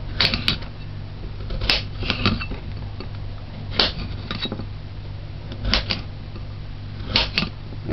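Knife dicing vegetables into cubes on a cutting board while preparing coconut potato callaloo, a series of irregular sharp taps and chops, some in quick pairs, spaced over several seconds against a low kitchen hum.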